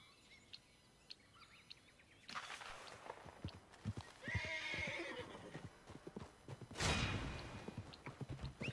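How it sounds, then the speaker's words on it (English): In the video game Red Dead Redemption 2, a horse whinnies loudly over rapid hooves galloping on hard ground, with faint bird chirps in the background. "That's my horse."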